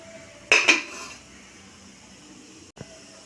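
The metal lid is lifted off a cooking pot of steamed ada, jaggery and coconut parcels wrapped in banana leaf. One sharp metallic clatter comes first, then a smaller clink a couple of seconds later, with near-silence in between.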